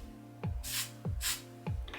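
Hairspray misted onto a lace front wig during a glueless install, three short close hissing bursts about half a second apart, with soft handling knocks between them.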